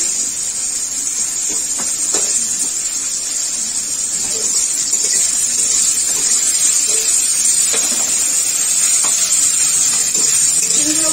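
Bay leaf and radhuni spices sizzle in hot oil as a Bengali tempering for vegetable shukto, a steady close hiss with occasional soft stirring clicks throughout.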